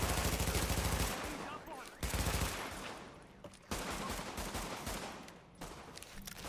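Pistol fire in The Division, several sharp, loud shots and short volleys at irregular intervals, each followed by a decaying tail, with voices speaking faintly in between.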